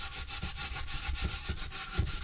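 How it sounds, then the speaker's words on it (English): Hand sanding of wood parts for a high power rocket build, a close, rhythmic scratchy rubbing in quick back-and-forth strokes at a steady pace. "I'm sure that sanding sound is really good for you guys, as is."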